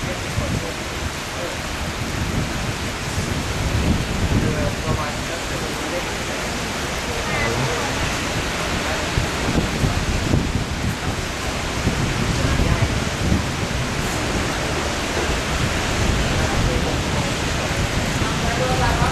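Heavy tropical storm rain pours in Rangsit, Thailand, in a dense, steady roar with no breaks, nearby and loud; no distinct thunderclap stands out.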